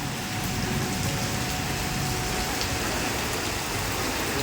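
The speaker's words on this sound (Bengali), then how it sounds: "মুসুলধারায় বৃষ্টি হচ্ছে" A heavy downpour pours down in a dense, constant hiss of rain, loud and close, with no voices and no break for the few seconds.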